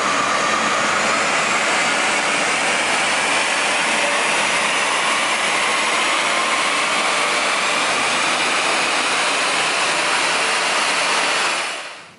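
Loud, sustained engine roar of a 2017 Toyota Kijang Innova on a dyno, climbing slowly in pitch as it revs hard, then abruptly dropping off at the very end.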